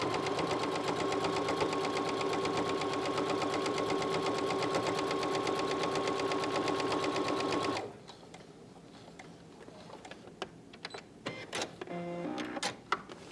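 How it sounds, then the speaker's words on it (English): A sewing machine with a dynamic walking foot stitches fabric in a steady, loud, continuous rapid whir for about eight seconds. It then stops abruptly, leaving faint handling clicks and light rustling. "Notice how evenly that fabric is being pulled through. That is the advantage to your dynamic walking foot."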